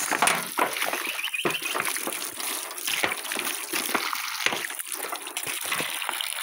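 Strong gushing flow of water pouring from a solar-powered pump into a well, a loud continuous rushing splash with no speech.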